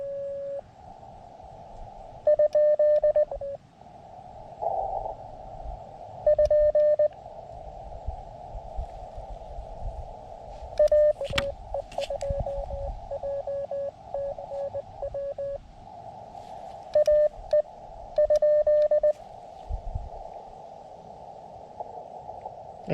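Morse code on an amateur radio comes through as short bursts of clean, steady tone, dots and dashes sent in quick groups with gaps between, over a faint hiss of static.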